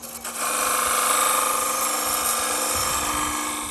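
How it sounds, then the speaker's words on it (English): A Shopsmith lathe spins wood while a tool scrapes beads into the turning piece, giving a loud, sustained mechanical whine and hum that swells in after a brief quiet start and holds steady. "Now this is scraping beads."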